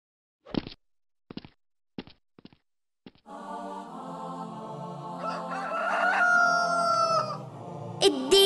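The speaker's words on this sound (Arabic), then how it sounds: "الديك بيصحى بكير بيوعينا بصياحه" A cartoon rooster crows a long, loud cock-a-doodle-doo after a few short sharp knocks, with a musical backing in a children's song.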